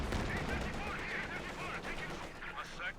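Rapid gunfire from the video game Company of Heroes 2 keeps up as a steady, fairly quiet clatter of overlapping shots, mixed with other battle noise and a commentator speaking over it.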